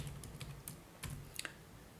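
Computer keyboard typing while writing CSS selector code, a quiet run of light key clicks in small bursts with short pauses, close by in a calm room.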